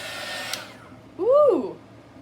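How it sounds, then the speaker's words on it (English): A heat gun blows hot air across a resin ring pour, making a short airy rush that fades away after about half a second. A brief vocal exclamation with a rising and falling pitch follows. "Now let's get some heat gun action in here."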